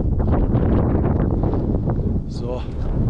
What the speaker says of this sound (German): Es wird auf jeden Fall ein bisschen windiger